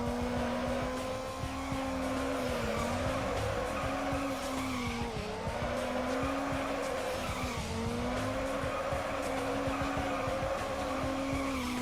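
A Nissan Skyline road racing in Need for Speed Underground, its engine a loud, steady drone with rising and dipping revs and long tire squeals over nearly twelve seconds, with no talk.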